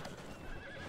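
A horse in the Red Dead Online video game gives a brief whinny along with clip-clopping hooves, all heard faintly and at a steady level.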